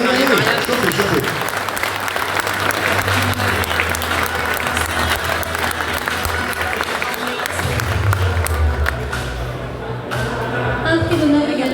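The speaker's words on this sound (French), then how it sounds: "Applaudissements s'il vous plaît." Applause from the audience at a Bresse poultry competition and gourmet fair in Louhans, dense steady clapping throughout with crowd noise and a voice over a loudspeaker underneath.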